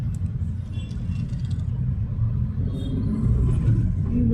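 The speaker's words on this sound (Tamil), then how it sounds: "Heavy traffic." Heavy road traffic rumbles steadily, a dense low drone of car and vehicle engines that swells slightly toward the end, with faint voices in the background.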